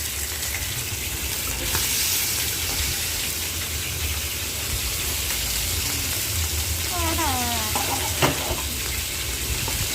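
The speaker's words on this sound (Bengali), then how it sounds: "তো মাছগুলো এক পিঠ ভাজা হয়ে গেছে, আর এক পিঠে দিয়ে দিচ্ছি।" Fish fry in a very hot kadai with a continuous loud sizzle and crackle, with a few brief scraping stirs and a faint voice in the background.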